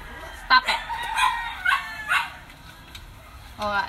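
Dogs at bath time let out several short, sharp barks and yips in quick bursts, fairly close and loud, with a person's voice mixed in.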